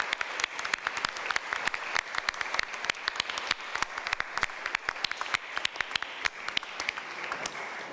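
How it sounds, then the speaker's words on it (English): Audience at a film festival award ceremony applauds the actors on stage, loud sustained clapping with sharp individual claps standing out near the listener, continuous throughout with no talk. "So a big round of applause for our actors on stage."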